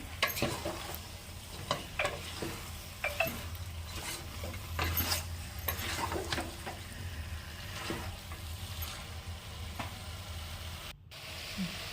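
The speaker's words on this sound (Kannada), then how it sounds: "ಈಗ ಇದನ್ನ 5 ನಿಮಿಷ ಹಸಿ ವಾಸನೆ ಹೋಗೋವರೆಗೂ ಫ್ರೈ ಮಾಡಿ." Masala fried in a pan for a farm-chicken curry, with a steady low sizzle broken by repeated scraping and stirring strokes and light clinks of a spoon against the pan.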